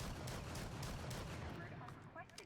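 Shotgun blasts from the video game Rainbow Six Siege, tested at close range to show off its recoil, come as a dense run of loud, rapid reports under ongoing talk.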